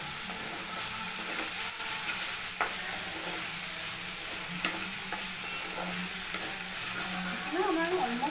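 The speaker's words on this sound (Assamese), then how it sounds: "এতিয়া আমি চব্জিখিনি এবাৰ লৰাই লওঁ।" Vegetables are stirred in a pan after the gas is switched off, a soft steady sizzle running underneath while a spoon scrapes and taps the pan now and then, close and fairly quiet throughout.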